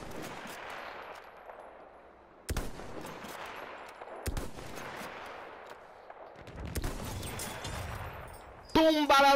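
Gunfire in the first-person shooter Battlefield 1, played as a scout, with a few sharp shots and bursts standing out from a noisy battlefield background.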